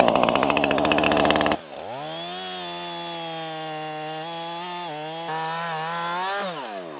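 A gas chainsaw cutting into a tree stump near ground level: a short burst of high revving and bite into the wood, then the engine drops and holds at a steady idle-to-mid drone with small pitch shifts, loud and close.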